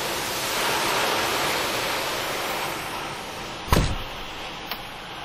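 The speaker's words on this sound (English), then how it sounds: "he can't go yet because it's still raining" Heavy rainstorm heard through an open door, a dense steady hiss of falling rain that eases slightly, followed by a sharp knock or door clatter and a smaller bump near the end.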